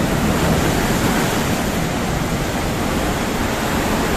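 Ocean surf on a south coast beach in East Java roars as a loud, steady wash of broadband noise, unbroken for the whole stretch with no distinct wave breaks or voices.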